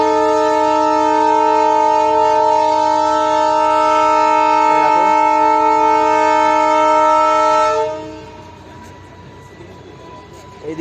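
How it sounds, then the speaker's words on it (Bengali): Darjeeling toy train horn or whistle sounding loudly in a long, steady harmonic blast for about eight seconds, then cutting off to leave quieter rumble and ambient noise. "টয় ট্রেনে উঠলাম।"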